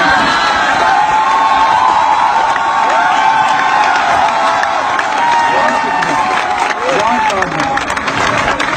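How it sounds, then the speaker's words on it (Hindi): A crowd at a poetry performance cheers, whoops and claps loudly and continuously, voices shouting over a dense wash of applause. "फजा में बस ये तालियों का शोर थोड़ा और बुलंद करें"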